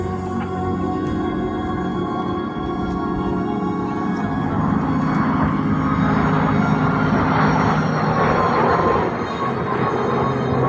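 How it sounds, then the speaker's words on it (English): Red Arrows jet aircraft sweeping past in formation with smoke on, a loud continuous engine roar that swells and rises in pitch as the jets approach and pass. "As the jets sweep in from the right-hand side and the smoke comes on."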